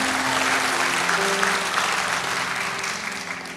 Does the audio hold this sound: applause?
yes